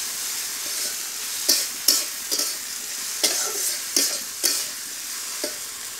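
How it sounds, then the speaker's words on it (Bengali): Tomatoes and green chillies frying in a pan for an egg and tomato chutney, stirred with a spoon: repeated close scraping strokes at irregular intervals over a steady bright sizzle, with no voices. "টমেটো আর কাঁচামরিচ দিয়ে ভালো করে নেড়ে চেড়ে নেব"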